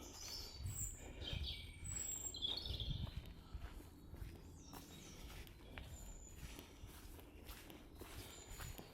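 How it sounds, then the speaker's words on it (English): Faint chirps of robins and blackbirds along an old English country lane, scattered high calls over soft footsteps and low outdoor rumble. "Yet to find any real wildlife other than the odd chirping bird, robins, blackbirds and stuff"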